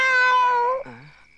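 A palm civet gives a single loud, close, drawn-out wavering cry that drops into a lower, shorter falling call before fading, heard alone and sounding much like a cat's meow.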